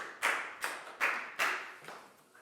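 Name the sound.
class applauding a student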